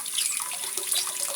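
Aquarium circulation pump parts being rinsed under a running kitchen tap, a steady close hiss of flowing water splashing over plastic with no voices.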